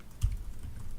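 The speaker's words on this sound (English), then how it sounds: "You would simply just type in the email address." Quick, soft keystrokes on a computer keyboard as an email address is typed, a brief cluster of faint taps close by with no speech.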